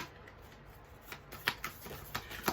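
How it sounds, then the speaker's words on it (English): Tarot cards are shuffled by hand, soft riffling close by with a series of crisp snapping bursts in the second half, quiet and without speech. "While you're sitting here watching me shuffle your cards"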